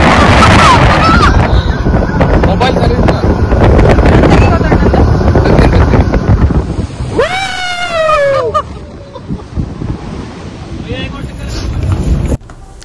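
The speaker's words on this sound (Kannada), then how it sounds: "ಸ್ಪೀಡ್ ಬೋಟ್ ಅಲ್ಲಿ ಹೋಗ್ತಾ ಇದ್ವಿ" A speedboat races across Lake Pichola in Udaipur, with loud, roaring wind buffeting the microphone and rushing water. A horn-like honk cuts through partway, and the noise then eases near the end.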